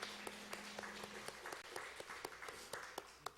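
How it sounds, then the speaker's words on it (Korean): Congregation applauding during a Sunday church worship service, a steady patter of hand claps with sharp individual claps standing out, moderately faint and roomy with no talk. "하나님께 영광의 박수로 찬송 올려드립니다."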